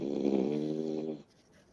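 Small dog snoring: one drawn-out, rasping, buzzy breath lasting about a second, quiet and close by, then fading into near silence.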